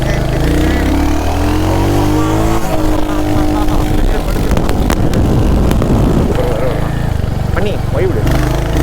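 A Royal Enfield Hunter 350 motorcycle's engine runs loud and close while cornering, its revs rising and falling with shifting pitch. Wind rush rides over it.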